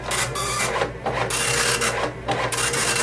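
Printer in a clinic running off a patient data printout, a loud, steady mechanical rasp with rhythmic pulses as the print head sweeps back and forth, no talk.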